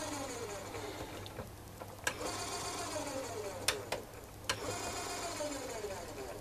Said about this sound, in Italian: facciamo scaricare i perni dando alimentazione al motore